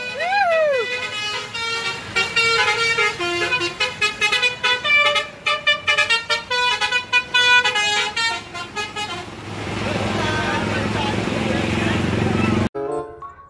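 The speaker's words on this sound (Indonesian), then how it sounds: "kali ini ada bus Laju Prima teman-teman" A Laju Prima bus passes close by, sounding a loud melodic multi-tone horn in a rapid rhythmic sequence of toots, then its engine roars as it goes past before cutting off abruptly.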